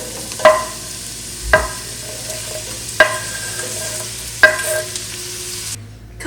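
Onion, celery and fennel fry in a couple tablespoons of hot olive oil in a soup pot, a low continuous sizzle punctuated by four evenly spaced ringing clanks of a spoon striking the pot.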